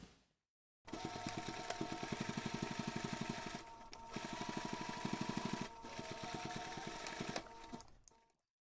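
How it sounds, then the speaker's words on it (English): A sewing machine runs in fast, even stitching bursts with a brief pause midway while basting the flap of a backpack, close and loud with no talking. "you can take this to the machine and baste the flap along the top edge"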